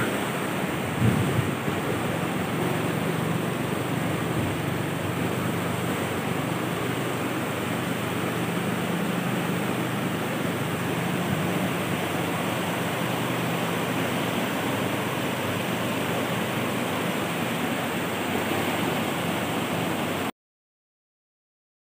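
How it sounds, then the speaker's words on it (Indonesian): A river in North Aceh, at the border of Bener Meriah, roars in a steady, dense rush of turbulent water that runs loud and unbroken, close to the microphone, with no voices. "Airnya ekstrim bro."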